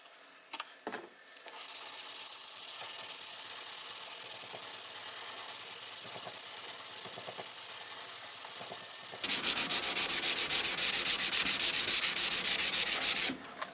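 Steady rasping strokes of hand sanding on 5160 steel knife bevels with a wooden backer, continuous and close, with a coarser, brighter scratching phase in the final few seconds.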